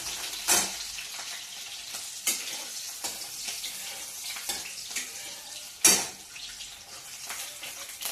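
Green chillies crackle and sizzle as they temper in hot oil, a steady close frying hiss broken by several sharp pops and a few scraping stirs of a utensil against the pan.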